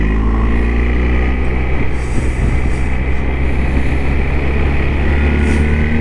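A 2025 BMW R1300GS Adventure motorcycle on the road gives a steady, loud engine drone with constant wind rush, its tone shifting slightly as it downshifts, with no talking.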